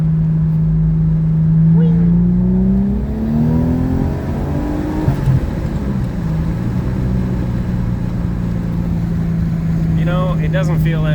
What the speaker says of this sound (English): I'm going to try and open it up real quick in second gear